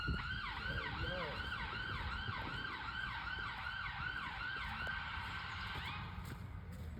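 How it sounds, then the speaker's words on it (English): An ambulance siren wails through English countryside near sheep fields, a steady repeating up-and-down tone that stays fairly loud and clear throughout, with faint rustling and a bit of background noise underneath. "Oh, I see an ambulance coming."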